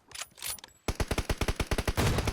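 Rapid gunfire in PUBG Mobile bursts out loud and close, a quick run of about a dozen evenly spaced shots after a softer, more distant opening.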